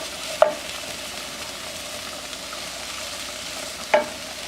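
Orange chicken being stirred into sauce in a pan with the burner off, a soft continuous sizzle running throughout with two brief louder clacks of a utensil against the pan.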